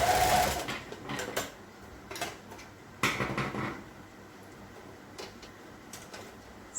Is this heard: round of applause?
no